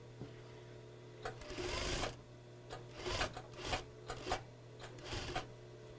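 Sewing machine stitching a shortened sleeve during a shoulder alteration, close and fairly quiet, running in several short bursts with pauses between them and no talking.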